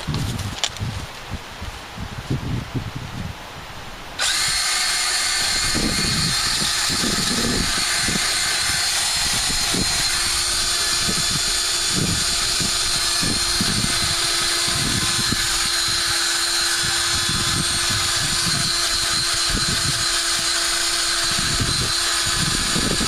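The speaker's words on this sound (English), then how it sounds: "Let's try the wire brush first." Wire brush spinning on a drill to clean rust from a car wheel well, a loud steady close hiss and scrape running continuously after a brief quieter start, with rhythmic bumps as the brush presses on the metal.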